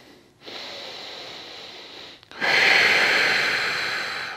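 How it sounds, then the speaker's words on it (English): Slow breathing during a lower-back massage-ball exercise, a steady breath of about two seconds followed after a short pause by a louder, breathier one, close and alone. "Breathe in and out."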